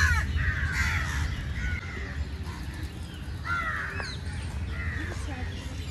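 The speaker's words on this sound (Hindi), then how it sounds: "इतने ज़्यादा कौवे स्नान कर रहे हैं यहाँ पर।" Many crows bathing beside a road, cawing repeatedly in harsh bursts over a constant low traffic-like rumble, with several calls overlapping at moderate distance.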